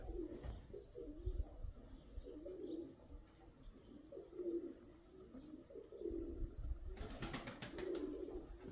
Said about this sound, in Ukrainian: Маленьке голубенятко. Це вторий, вторий виводок.